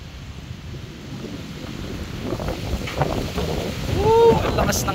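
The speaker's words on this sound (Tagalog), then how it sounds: "Grabe lakas ng hangin, ang lamig." Strong, cold wind blowing outdoors, a steady rushing roar that buffets the microphone and swells louder toward the end, with a faint voice and a brief animal call over it.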